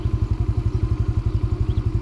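A small RKS Easy Pro 50 motorcycle engine idles close by, a loud, even, rapid putter of regular firing pulses with no voices.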